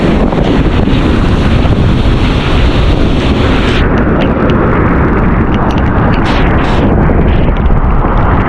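Strong ocean waves surge and crash in a loud, steady roar of surf, with heavy wind buffeting the microphone close up throughout.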